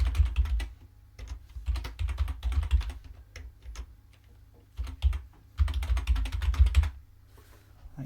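Keystrokes on a computer keyboard as text is typed into a Linux Mint desktop, coming in quick clattering bursts separated by short pauses, close and clear with no talking.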